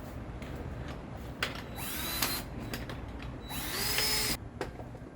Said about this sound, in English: I'm going to drill some holes in the bottom of this container.